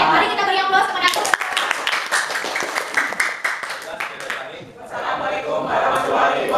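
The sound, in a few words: applause for a group presentation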